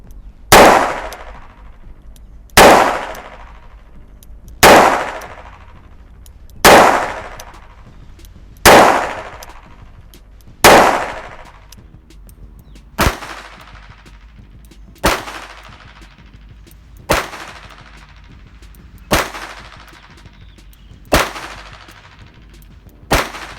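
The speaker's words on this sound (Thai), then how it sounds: "ลองดูนะครับจำนวน 6 นัด ไปยิงที่ตรงกลางเลยนะครับ" Eleven loud, sharp handgun shots fired at a target, evenly spaced about two seconds apart, each with a short ringing decay, no talking.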